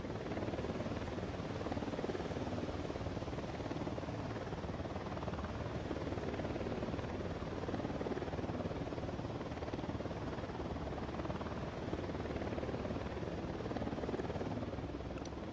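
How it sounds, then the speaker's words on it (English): Helicopter in the Ghost Recon Wildlands video game, a steady dense rotor and engine roar filling the whole stretch, loud and constant with no talk over it. "Chopper's approaching."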